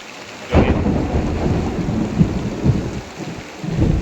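Heavy rain pours steadily while deep thunder rumbles break in, loud and close, swelling a few times over the downpour.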